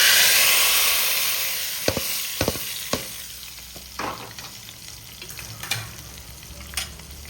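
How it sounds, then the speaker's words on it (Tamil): Hot tempering poured into a pot of prawn curry sizzles loudly at first, then settles into a steady crackling fry, with several sharp pops and stirring knocks scattered throughout. "தாளிச்சு கொட்டிக்கிறோம்"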